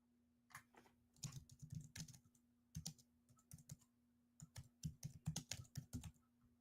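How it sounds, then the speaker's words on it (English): Keys clatter on a computer keyboard in quick, uneven bursts of typing with short pauses, close and fairly quiet, with no voice over it. "I'm just typing something"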